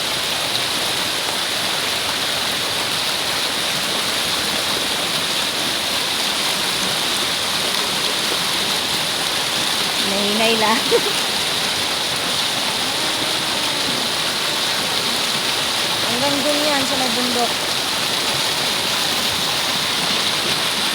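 Strong floodwater near a bridge rushes in a constant loud roar, like a waterfall, steady from start to end, while someone talks briefly and laughs partway through.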